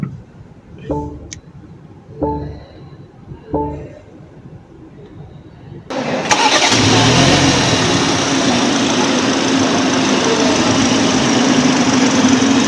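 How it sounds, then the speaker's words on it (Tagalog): A few starter cranks, then a BMW car engine catches and settles into a loud, steady idle close by. "pwede na tayo ding start ang makina, ganahin"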